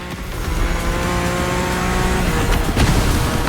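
A BMW M4 race car in The Crew Motorfest roars across the finish line, its engine a loud sustained drone with a brief tire squeal and rising revs near the end, without speech.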